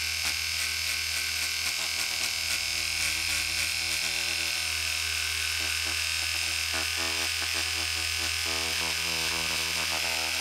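A David Union 400 linear stroke sander working wood, a steady high-pitched electric buzz running continuously at close range with slight fluctuations in pitch, no voices.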